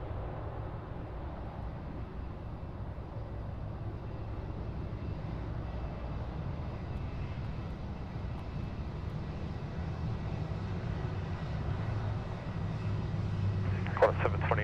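Aircraft engines drone steadily at Sydney Airport as a plane taxis for takeoff, a continuous low rumbling roar slowly building in loudness, with a sharp click near the end.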